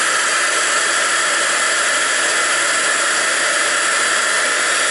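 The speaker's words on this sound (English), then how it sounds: "Now the heat gun is a bit noisy, so I'll try and talk a little bit louder." A heat gun blows continuously over embossing powder on a card, producing a loud, steady, airy roar and hiss that stays even from start to finish with no voices.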